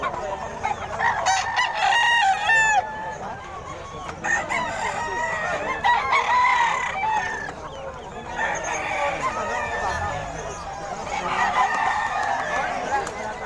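Several roosters crow repeatedly at a busy pet market in Bocaue, overlapping with clucking fowl and a constant crowd murmur, the calls loud and close amid the bustle.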